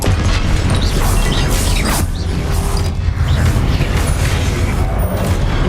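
Confringo blasting curse explosions boom in a Wizarding World video game, loud continuous rumbling blasts with crashing debris and creaks, no talk.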